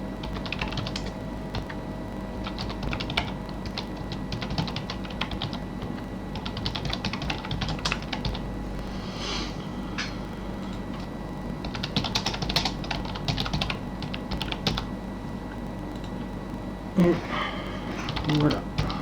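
Typing an email on a computer keyboard while using the Thunderbird mail client on Linux: steady soft clicking keystrokes in irregular bursts throughout, quiet and close, with a faint background hum and a few sharper clacks near the end.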